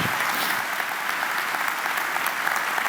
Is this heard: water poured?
no